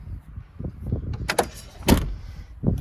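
Front door of a Land Rover Defender 110 slamming shut, a sharp close thump that stands out among softer handling knocks and rattles nearby.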